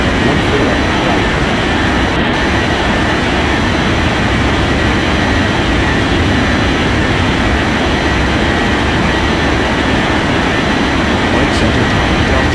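Airliner engines roaring in a steady, loud, unbroken drone during a takeoff roll from runway 14 right in an air traffic control game.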